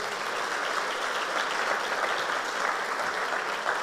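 A church congregation applauds during a sermon, a dense, steady wash of many hands clapping together that holds evenly for about four seconds with no speech on top.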